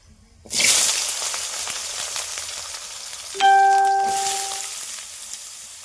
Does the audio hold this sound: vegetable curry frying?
yes